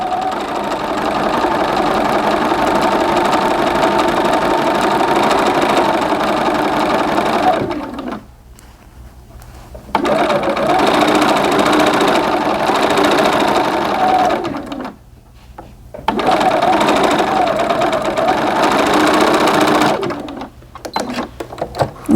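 A sewing machine stitches the seam of a pair of doll pants, running in long, steady, rapid mechanical runs broken by two brief stops, up close and without talking.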